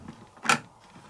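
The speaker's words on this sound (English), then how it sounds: "So that is your drawer release" The detergent drawer on a Miele Honeycomb Care W3214 7kg washing machine is released and pulled open, giving one short, sharp plastic click-creak against a quiet room.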